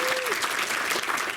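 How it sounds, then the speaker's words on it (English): Graduation audience applauding for educators at a high school ceremony, a dense, steady wash of clapping throughout with a brief tone at the start. "Let's give them another round of applause."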